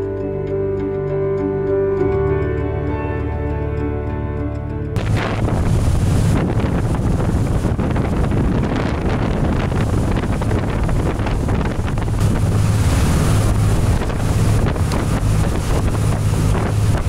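A 2008 Bertram 630 offshore fishing yacht underway at sea, its engines giving a loud, steady roar mixed with rushing water and heavy wind buffeting the microphone, after a brief stretch of music.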